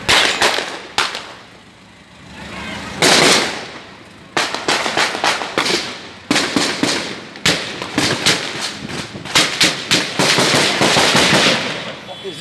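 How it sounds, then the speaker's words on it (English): Gunfire in a street shootout in Port of Spain, with vehicles caught in the crossfire, comes as loud, sharp bangs in irregular bursts and rapid strings, some close and some farther off, with voices present. "Shots busting from my house up there."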